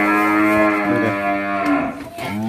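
3B beef cattle moo in long, loud, close bellows, one drawn-out call followed by another rising moo, with farm background noise.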